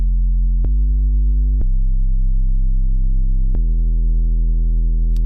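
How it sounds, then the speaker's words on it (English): A steady, loud low electronic tone, a pure sine wave driven into a limiter on a master bus, buzzes continuously, with a few sharp clicks where the pitch and texture abruptly shift. "harmonic structure coming from a pure sine wave, just going into limiting"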